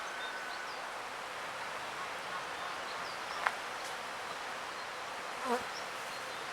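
Steady honey bee buzzing at a hive hums throughout at a moderate level, with faint bird chirps and a couple of brief clicks scattered over it.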